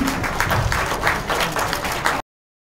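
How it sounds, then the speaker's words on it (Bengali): Audience applause at an awards ceremony, a dense burst of clapping from a crowd that lasts about two seconds and then cuts off abruptly. "যে আমরা সবাই একটা হাততালি দিই।"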